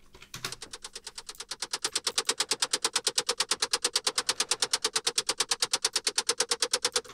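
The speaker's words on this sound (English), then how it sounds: "you'll hear the power of this multi-band transient shaping now" A rapid, machine-gun-like car engine chatter processed with multiband transient shaping, sharp punchy pulses in a fast steady rhythm, building slightly in loudness and continuing evenly to the end.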